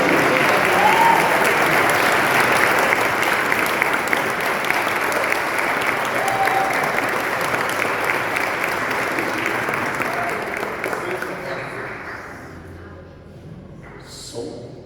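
A church congregation at a youth service claps loudly and steadily in a dense, continuous wave of applause that gradually thins and fades near the end.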